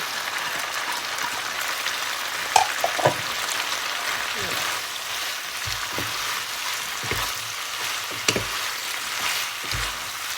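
Red fish balls stir-fried with cumin leaves crackle gently in a pan, a low continuous sizzle broken by a few clinks and scrapes of stirring, with someone talking over it at times.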